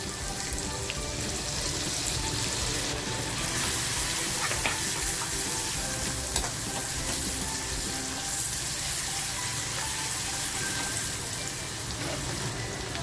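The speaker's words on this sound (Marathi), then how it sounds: "तेल छान गरम होत आलं ना की कांदा टाकायचे" Onion dropped into hot oil for spicy mutton kharda, a steady broadband sizzle and frying hiss that holds close and continuous throughout with faint clinks, no voices.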